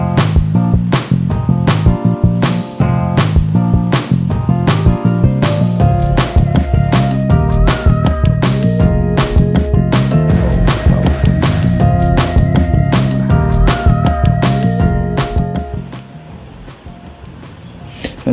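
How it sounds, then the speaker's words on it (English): A drill bores holes through a steel railway track section, lubricated with cutting oil, producing a loud, sustained, rhythmically pulsing mechanical grind with metallic overtones that drops off abruptly near the end. "I start with a pilot drill, making sure to use plenty of cutting oil to help me get through without burning out my bits"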